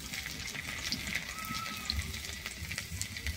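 Chopped garlic frying in oil with dried chillies and nigella seeds makes a soft, steady sizzle with small crackles and light stirring clicks, close by and fairly quiet.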